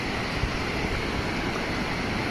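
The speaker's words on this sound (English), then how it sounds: "Now, crossing the river." A flowing mountain river in a Costa Rica forest rushes steadily and fairly close, a continuous watery hiss with small splashes as someone wades across.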